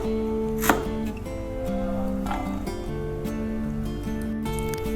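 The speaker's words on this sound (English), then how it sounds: "Now going to cut okra. Cut in small pieces for the salad." A knife chops okra into small pieces on a board, several sharp cutting knocks spaced apart over a steady background hum, with no one talking.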